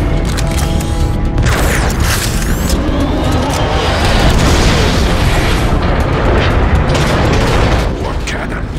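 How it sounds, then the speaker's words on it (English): Heavy booming war-cannon blasts in Transformers: Fall of Cybertron roll one after another over a dense, loud mechanical din, with deep rumbling filling the whole stretch. "War cannons."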